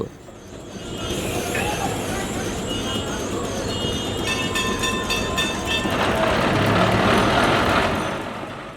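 A heritage tram in North Kolkata rattling steadily along its tracks, a continuous loud rumble with faint metallic ringing and squeals on top, building slightly toward the end.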